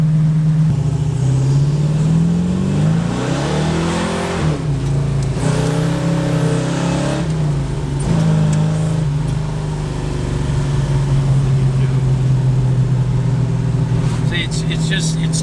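A big block MOPAR engine in a 4-speed car revs in rising and falling surges, then holds a loud, steady drone close by.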